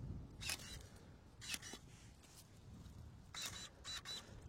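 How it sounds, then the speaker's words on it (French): Scissors snip grapevine shoots during pruning, with several quick, crisp cuts in small clusters, close and fairly faint against a quiet background. "donc il y a beaucoup de coups de ciseaux"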